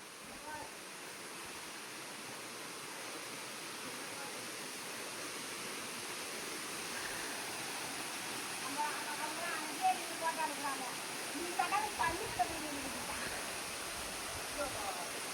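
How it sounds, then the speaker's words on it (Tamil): Mayil Ootru waterfall near Ladapuram in Perambalur district, a constant broad rushing roar of falling water throughout, with a few faint voices and small sounds over it. "இதான் மயிலூர் அருவி."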